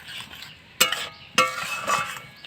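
A lid is set onto a pan of peas put on to boil, giving two sharp metallic clinks about half a second apart, followed by a faint rattle and soft cooking hiss in a quiet kitchen.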